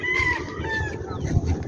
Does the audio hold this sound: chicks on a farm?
yes